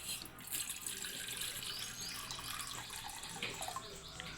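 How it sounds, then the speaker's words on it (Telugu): Water is poured into a bowl set on a stove while making ragi porridge, a continuous, soft splashing rush that stays steady throughout. "బౌల్ అయితే పెట్టేసి వాటర్ అయితే పోసేయండి"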